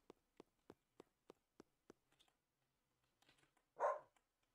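A dog in the video game Spirittea yaps in a quick, evenly spaced series of seven short clicks followed by scattered game sounds and one louder, fuller bark near the end.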